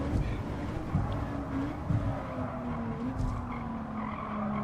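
A car braking hard and sliding on a Tokyo East track in a racing game, tires squealing in wavering streaks over a rumbling engine, with brief voice sounds mixed in.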